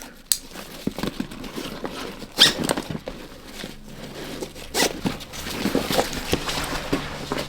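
A zipper on a Mystery Ranch Pegasus backpack is pulled open in several short, close rasping bursts, mixed with handling rustles and fabric pats.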